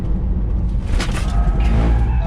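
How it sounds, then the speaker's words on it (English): A Tesla Model 3 electric car slides into lift-off oversteer in a short burst of tyre noise and road roar, close and fairly loud, with a rising squeal toward the end. "Let's see if she'll lift off oversteer"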